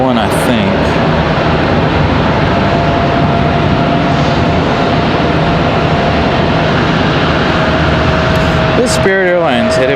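A Spirit Airlines Airbus A321neo jet at Charlotte Douglas International Airport produces a steady, loud engine roar that holds throughout, with people talking over it near the end.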